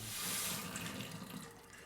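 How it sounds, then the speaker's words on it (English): Cold tap water runs into a pot of boiled eggs in a sink, a steady close splashing rush that fades a little toward the end, with no voices. "Running the eggs under cold water will allow the membrane to separate from the shell"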